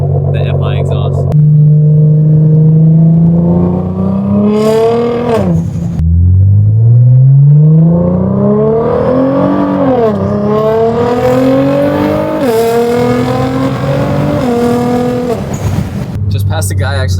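Nissan GTR fitted with an FI exhaust revs and accelerates hard through several gears, a loud, near engine rising in pitch with each pull and dropping at the shifts, with some voice underneath.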